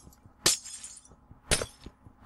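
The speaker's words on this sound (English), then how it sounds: "It's my life. I'm breaking the glass." Glass shatters in a video game, with two loud, bright breaking crashes about a second apart and a third starting at the end, separated by faint clinks and low thumps.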